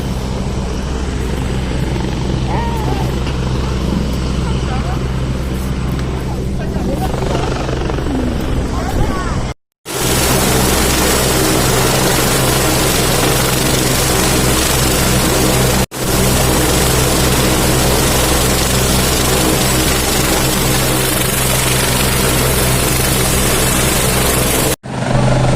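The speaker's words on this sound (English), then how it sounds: "They're waiting for some equipment back to the helicopter and then they will take off." A rescue helicopter sits at a landing site in Wan Chai, Hong Kong, its loud, close rotor and engine roar steady and continuous with a couple of brief cutoffs, while people talk faintly underneath.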